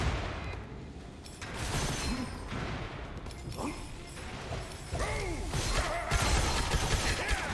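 Gunfire Reborn gameplay with a dart weapon firing a double burst and then an explosive shot, giving loud crashing impacts and bursts that build in intensity over several seconds with no talking.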